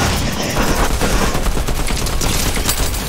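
Dense, loud gunfire in a Fortnite squad Zone Wars match, with sniper shots amid a continuous clatter of shots and impacts. The sound is close and busy throughout, with no voices.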